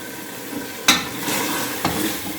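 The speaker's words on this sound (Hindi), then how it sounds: "तकरीबन 5 मिनट तक हम चने भूनेंगे" Chickpeas roasting in a pan for a Lahori chana masala, with a steady dry sizzle broken by two sharp scraping stirs of a spoon against the pan; close and fairly loud, no voices.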